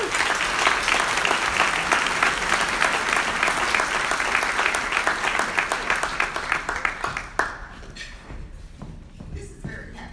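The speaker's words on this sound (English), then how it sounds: "Please, another round of applause for Teresa" Loud audience applause fills an awards ceremony, a dense steady roar of clapping for several seconds that then thins out into scattered claps and fades.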